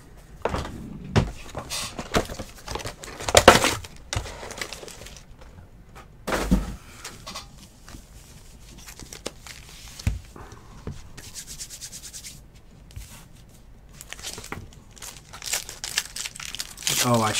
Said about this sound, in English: Open with the gator knife.